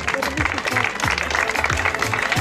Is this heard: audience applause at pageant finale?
yes